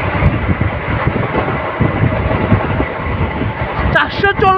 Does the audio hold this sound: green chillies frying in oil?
no